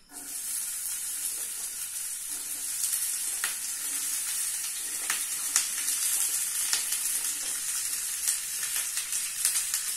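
Capsicum frying in a pan of hot oil, with curry leaves added soon after, gives a steady bright sizzle that crackles and pops throughout, close up and with no voices.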